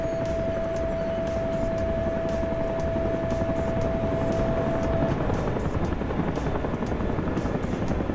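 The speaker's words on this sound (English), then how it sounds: "There's our Chinook." A Chinook helicopter flies past in a military video game, its rotor chop loud and close as a dense rhythmic thumping with an engine whine, steady throughout and with no talk.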